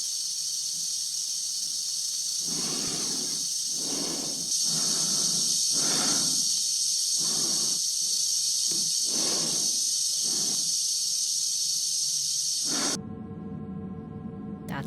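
An astronaut in a spacesuit breathes slowly and steadily inside the helmet, about eight measured inhale-exhale cycles close to the ear over a constant high hiss from the suit's air system, which then cuts to a lower hum.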